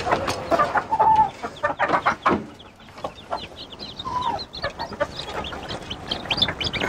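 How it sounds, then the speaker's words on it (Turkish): Chicks peep rapidly in a coop, a busy run of high chirps and cheeps close by, mixed with clucking from a broody hen and rustling. "Bakın bir avuç civciv."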